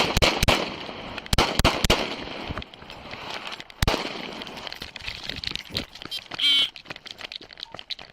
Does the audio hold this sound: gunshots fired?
yes